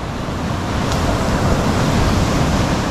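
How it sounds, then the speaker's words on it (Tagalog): Sea waves crash and roar loudly and steadily at close range, with a broad surf wash and no voices. "biro mo yung alon sa laut, oh."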